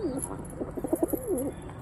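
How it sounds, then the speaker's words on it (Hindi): A blind pigeon gives a short series of soft, close cooing notes that rise and fall over about two seconds, with no other sound competing. "ये एक अंधा कबूतर है"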